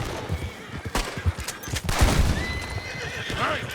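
A horse whinnies over rapid hoofbeats and scattered gunfire in Red Dead Redemption 2, with clattering and a rising whine, all close and busy.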